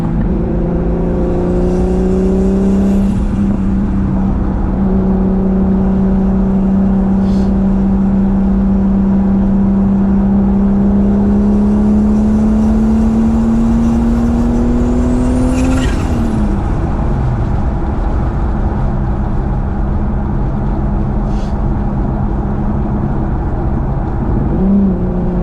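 A turbocharged 12-valve VR6 swapped into a B5 Audi A4 drones loudly and continuously while driving, with its pitch rising and falling through gear changes and throttle shifts, and no talking.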